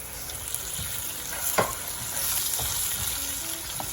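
Fish frying in a pan with chilli, turmeric and salt, a steady close sizzle with occasional sharper pops and stirring clatter, no talking.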